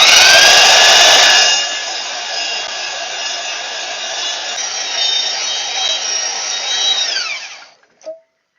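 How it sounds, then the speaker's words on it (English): A bandsaw cuts through a metal post, a loud steady whining drone with high harmonic tones that runs for about seven seconds before spinning down, followed by a single short knock at the end. "my bandsaw blade and try and cut it off as close to this post as I can"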